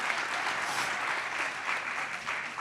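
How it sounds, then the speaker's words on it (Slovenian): Steady applause from a conference audience at a Slovenian public administration event, a dense, even clatter of many hands filling the room without pause. "En aplavz."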